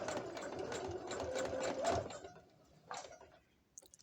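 A sewing machine stitches a robe made from a fleece blanket, its needle running in a steady, close, rapid whirring rhythm for about two seconds, then slowing and stopping, with a few faint clicks and handling noises afterward.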